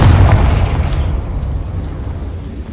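The Confringo blasting spell explodes in the Hogwarts Legacy video game, a loud, deep boom that rumbles and slowly fades over a few seconds.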